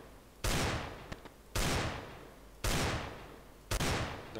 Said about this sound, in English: let's just aim at one spot and then just shoot